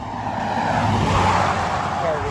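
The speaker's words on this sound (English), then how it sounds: "Car" A car passing by on a road beside a lake in the Canadian wilderness, a steady loud tire-and-engine rush that swells and fades slowly, heard alone without talk.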